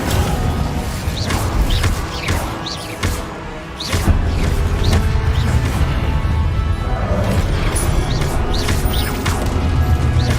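Incendio fire spell from Hogwarts Legacy, a loud run of crackling bursts, whooshes and impact crashes layered with combat effects, with a brief dip near four seconds before the clashing resumes.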